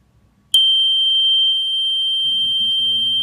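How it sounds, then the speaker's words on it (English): An over-voltage relay alarm in a Proteus-simulated circuit project switches on abruptly as one loud, steady, high-pitched electronic tone that holds unbroken, with a voice starting to talk under it near the end. "the over voltage relay has been operated, so it's beeping"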